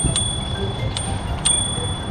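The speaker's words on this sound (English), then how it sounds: "there's a bell on it." A bell on an electric scooter rings three times in quick succession, sharp bright dings at close range over low background rumble.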